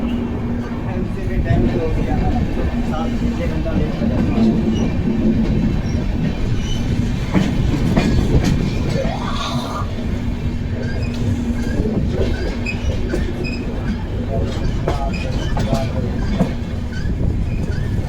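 An Amrit Bharat Express train runs on the rails with a loud, continuous rumble, rhythmic clickety-clack and occasional wheel squeal, and voices are present under the noise.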